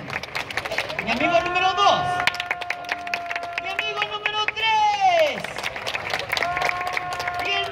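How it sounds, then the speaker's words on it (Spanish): Audience applause for a clown's contestant in a town square in Zacatecas, a steady crackle of clapping that rises and falls for several seconds beneath tonal, whistle-like sounds and voices. "Aplauso para mi amigo número uno."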